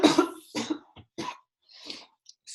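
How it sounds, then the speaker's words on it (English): A person coughs several times in quick, harsh bursts, close by, followed by a softer throat-clearing sound. "Sorry, I'm coughing."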